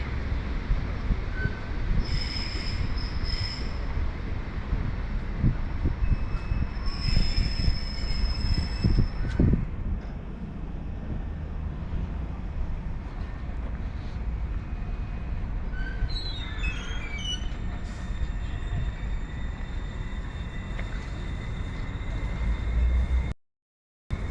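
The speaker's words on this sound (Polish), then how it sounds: "Takie mamy pociągi kolei mazowieckiej." Koleje Mazowieckie passenger trains rumble through Warszawa Wschodnia station with steady rolling noise, a few high squeals of wheels on rails, and continuous low machinery hum throughout.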